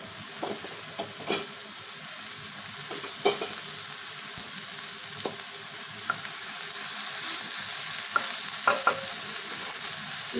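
Chopped tomato frying in a pan with onion, ginger and garlic for fish kachori filling, a steady soft sizzle with scattered scrapes and clicks of a stirring spoon, close and alone.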